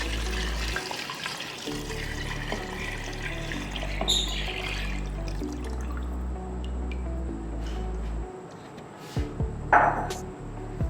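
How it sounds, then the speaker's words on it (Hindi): Mutton paya stock pours and splashes into a pot of browned meat, a liquid rush with drips and a few clinks, close and fairly quiet, with no talk. "अब इसमें पाए की यखनी शामिल कर दें।"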